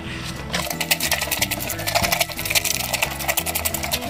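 A homemade hand-operated washing machine being worked, giving a fast, steady rhythmic clatter and knocking of rattling parts, close and continuous with no talking.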